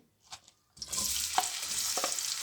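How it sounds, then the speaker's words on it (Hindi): A couple of soft taps, then onion drops into hot oil in a pan and a bright sizzle starts up and holds steady, with a few stirring clicks and no talking. "पैन में मैंने ऑयल गर्म होने रख दिया था। तो सबसे पहले मैं प्याज डाल रही हूँ।"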